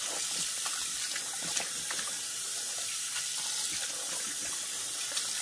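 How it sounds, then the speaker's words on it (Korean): Rinse water from washing perilla leaves in a sink is poured away, making a continuous close splashing, running-water rush with small clinks and no talking. "이 물을 그냥 버리세요"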